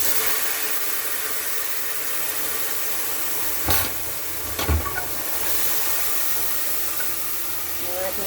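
Tomatoes sizzling in a pan with browned onions while cooking rice, a steady hiss and crackle throughout with a couple of brief clatters, a voice speaking faintly under it.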